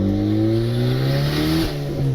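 A turbocharged Honda Civic R18 with an open downpipe and no exhaust revs hard up close, its raspy engine note climbing and dropping repeatedly in quick succession.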